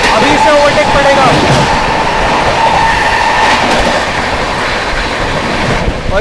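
Sikkim Mahananda Express rolling along the track, a loud, steady rumble with wheel clatter and faint high squeals, close by; voices talk over it throughout.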